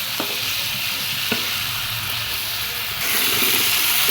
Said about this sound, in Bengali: এখন মাছের মশলা দিয়ে দিচ্ছি, এখন মাছগুলো দিয়ে দিচ্ছি